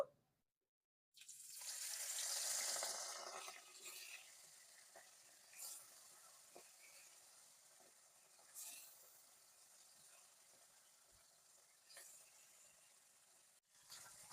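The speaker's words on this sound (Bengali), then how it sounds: "তেল গরম হয়ে গেছে এবারে আমি মাছগুলো ভেজে নেব" Fish pieces frying in hot oil in a pan for a Bengali bata fish dish: a loud hissing sizzle bursts out as the fish goes in, then settles into a steady softer crackle with occasional spits and pops.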